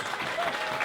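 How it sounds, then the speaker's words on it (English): An audience applauds nurses at a cancer charity's tenth-anniversary event, with a dense, steady wash of clapping held at an even level through the brief moment. "I ask all those that are not in the medical profession to show a round of applause for our"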